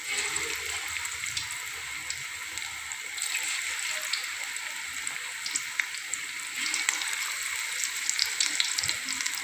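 Pakoras made from a yogurt-based batter frying in hot oil, a steady crackling sizzle with fine bubbling that carries evenly throughout at moderate loudness, with no talking over it.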